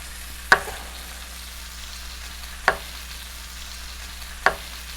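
Bacon sizzles on an outdoor grill with a steady, fairly quiet hiss. Three sharp knocks sound at roughly two-second intervals.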